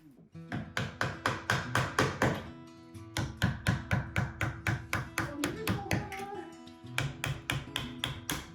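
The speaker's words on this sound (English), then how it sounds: "We chisel a 15mm deep mortise into the existing beam to seat the new one." A chisel is struck to cut a 15 mm deep mortise into an existing wooden beam, giving steady, evenly spaced sharp knocks, about two or three per second, in runs separated by a brief pause.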